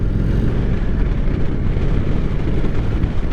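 A 2023 Indian Sport Chief motorcycle engine pulls in fourth gear from about 2,000 RPM as the throttle is rolled on, giving a loud, continuous low rumble with heavy wind noise and no talk.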